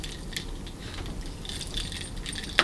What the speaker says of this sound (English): pick one of your keys. And just take it off the doodad